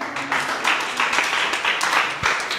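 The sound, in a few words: audience clapping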